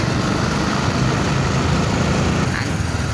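Tractor engine running steadily at close range, a continuous low, rumbling drone with little change in rhythm.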